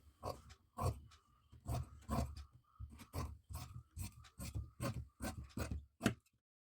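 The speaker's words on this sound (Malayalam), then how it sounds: "അപ്പോൾ ഇനി ഇത് കട്ട് ചെയ്തെടുക്കാം." Scissors cut through fabric for a flared kurti in a run of close, quiet crunching snips with a steady rhythm, each cut a short rasping burst.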